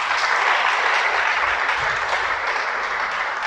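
Loud, dense applause from an audience, steady clapping for a few seconds with no pause.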